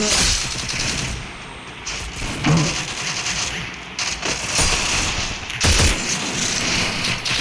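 Rapid bursts of gunfire from the mobile battle game Free Fire, including SVD sniper shots, crackle in repeated volleys with sharp louder blasts near the middle and end, over a busy game backdrop.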